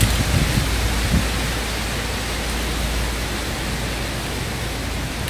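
Moderate, steady tropical rain during a Central American rainy-season winter, a continuous even hiss of falling water with no voices.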